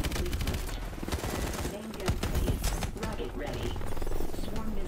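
Rapid automatic gunfire rattles nonstop in the video game Call of Duty: Advanced Warfare, a loud, dense stream of shots with game sounds mixed in and speech over it.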